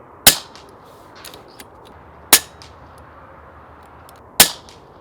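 Three sharp, loud shots from an RTI Prophet II PCP air rifle fired without a moderator on a Texas range, spaced about two seconds apart, each a crisp crack with a short ringing tail.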